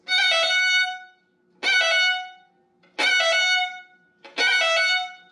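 Four bowed violin notes, each decorated with a fast roll of grace notes at the start, played solo, close and clear with short pauses between, in a fiddle lesson on the Swallowtail Jig.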